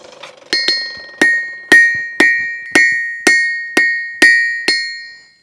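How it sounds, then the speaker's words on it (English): A blacksmith hammers hot steel on an anvil to draw out a taper: about ten sharp, ringing metallic blows at an even pace, each leaving a bright decaying ring, close and loud with no talking. "I'm going to heat this up one more time and draw this taper out some more"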